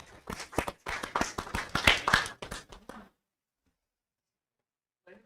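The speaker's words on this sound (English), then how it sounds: "Clap to it." Audience at a county public schools board meeting claps for about three seconds in an uneven burst of hand claps, then the room falls silent apart from a faint tap near the end.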